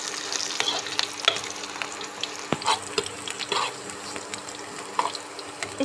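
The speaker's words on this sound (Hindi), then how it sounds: "हमारा अदरक और मिर्ची अच्छी तरह से भुन रही है।" Ginger and green chili frying in a pan, a soft, fairly quiet crackling sizzle with scattered sharp pops and light clicks spread across the clip.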